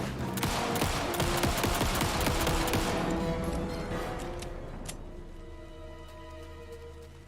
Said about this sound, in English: Just go wild with the pistol in this DLC.